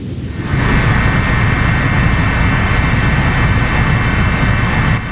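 A helicopter flies over a disaster-struck area in Nagan Raya, Aceh, with a loud, steady engine and rotor roar that fills the whole stretch close by.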